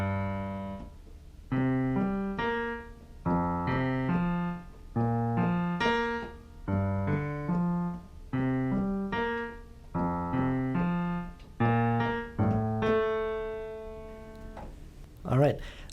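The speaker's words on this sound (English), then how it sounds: "I'll just play the first 4 bars again, just the left hand." Piano left hand alone playing the first four bars of a song, a steady repeating pattern of low and mid notes, clear and close, ending on a held chord.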